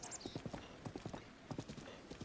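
Horse hooves clip-clop steadily in Zelda: Breath of the Wild on Nintendo Switch, a brisk, even rhythm of clear hoofbeats with a faint whinny at the start.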